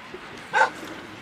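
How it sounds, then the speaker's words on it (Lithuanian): A dog barks once, a single short bark that is fairly faint and distant, heard on an Alpine mountain trail near a hut above a quiet outdoor background. "Šuo."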